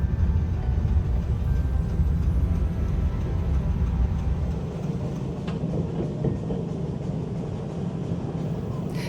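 Steady rumbling of a train ride, a continuous low rolling drone with faint rail clatter, close and even throughout, easing slightly midway.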